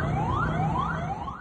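Ambulance siren wailing in rising sweeps on a busway, loud and steady, with traffic rumble underneath and no voices.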